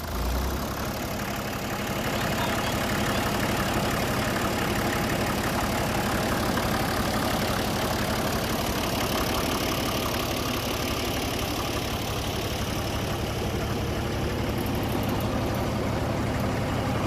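A 1961 Case 930 diesel tractor engine idling up close, a loud, steady, knocking low rumble that continues unbroken throughout.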